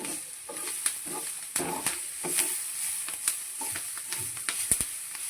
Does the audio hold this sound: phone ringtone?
no